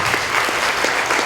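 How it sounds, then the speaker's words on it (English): Audience applause at a lecture in the WorldBeat Center, San Diego: steady dense clapping from a crowd filling the whole short stretch, even in level with no voices over it. "give them a round of applause, please"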